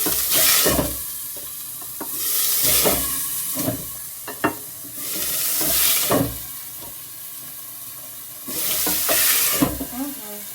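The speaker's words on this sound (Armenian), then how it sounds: "միսն եմ դնում, որ տապակվի։" Meat frying in a very hot pan with a little vegetable oil, loud close sizzling that swells in repeated bursts as it is stirred, with scraping and clattering of the utensil between surges.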